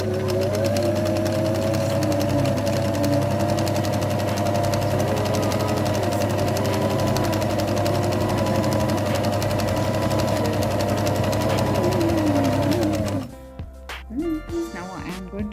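A sewing machine runs steadily, stitching together pieces of old clothing into a shopping bag with a black lining, a continuous motor hum that stops near the end, with a voice talking over it.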